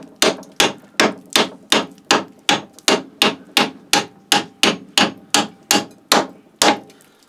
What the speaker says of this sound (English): The hammer wasn't handy, so I've gone for my trusty axe.